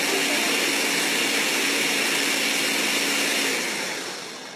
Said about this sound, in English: all we're going to do is we're going to blend it up